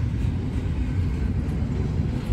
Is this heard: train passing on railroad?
yes